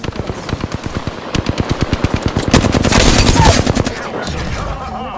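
Rapid automatic gunfire from a Flatline rifle in the Apex Legends video game, a steady burst of close, loud shots that thickens into a dense roar near the end, with no talk.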